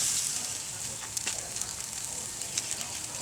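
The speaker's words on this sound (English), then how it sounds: "We're going to saute up some onions." Onions sautéing on a grill top, a steady hissing sizzle with scattered small crackles and pops, moderately loud and close.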